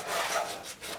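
Sandpaper of 220 grit rubs over the rim of a carved seashell, a short close scratchy scrape with two quick strokes and a brief pause between.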